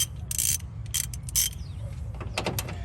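A ratchet with a 10mm socket backs out screws on a 2016–2021 third-generation Toyota Tacoma grille, giving bursts of quick clicking in short runs with pauses, close and fairly quiet, no talking.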